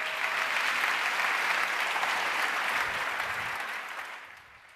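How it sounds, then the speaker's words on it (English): A large audience at the World Food Forum closing ceremony applauds the President of Guyana, a dense, steady wash of clapping that holds evenly before tapering off toward the end. "A round of applause, please, for His Excellency"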